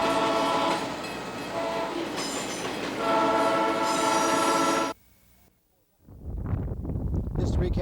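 Passing train with a loud horn sounding in long blasts over rumbling rail noise, then a brief near-silent gap before a rushing burst of passing wagons.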